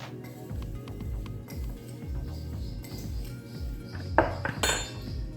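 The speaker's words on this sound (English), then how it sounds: "Grab a spoon. Mix it all up." A spoon stirs oatmeal apple crisp ingredients with cinnamon in a bowl, giving a steady run of close scraping, tapping clinks against the bowl wall, with a couple of sharper knocks near the end.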